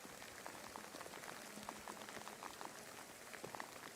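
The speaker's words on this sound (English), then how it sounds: "The rain is coming down." Steady rain patters down on a hard surface at the Assen racing circuit, a dense hiss of drops with no voices.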